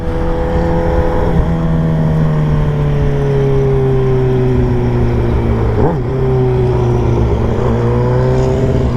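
A 2021 Kawasaki ZX6R engine with its stock exhaust idles and revs loud and close, a steady tonal drone with one quick blip of the throttle midway and a faint rise near the end.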